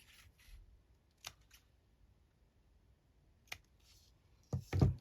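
Scissors snip through paper journal pages in a few separate, crisp cuts, quiet and close, with a louder rustling double snip at the end and faint room hush between.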